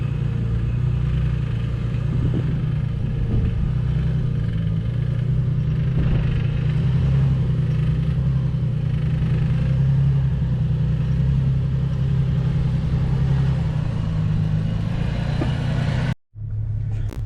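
A Toyota Land Cruiser engine holds a steady low rumble at about 1200 RPM during desert off-road driving, continuous and close, then cuts off abruptly near the end.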